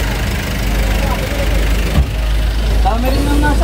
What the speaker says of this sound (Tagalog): Ito yung mga motor.